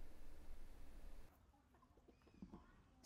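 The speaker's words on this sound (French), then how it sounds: "Ce troupeau de poulets est pris en charge par M. Dinh Văn Hoa." A flock of farm chickens clucks softly and intermittently, faint and somewhat distant, after a burst of broad rushing noise in the first second.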